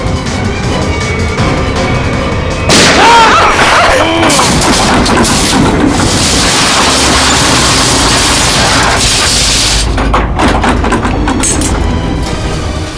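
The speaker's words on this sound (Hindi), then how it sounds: "लिफ्ट के अंदर गोली चली।" Loud gunshots fired inside a descending lift in a crime drama, several sharp booms in quick succession over dense dramatic score and rumbling effects.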